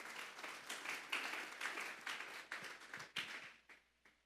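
A church congregation at an afternoon service gives the Lord a strong round of applause: dense, even clapping that carries on steadily and then thins and fades toward the end.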